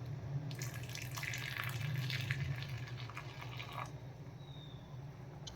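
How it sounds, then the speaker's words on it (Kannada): Milk is poured into a tea decoction, producing a soft, continuous liquid pour that is faint and steady for several seconds before easing off. "ಸ್ವಲ್ಪ ಹಾಲು ಹಾಕೋತೀನಿ."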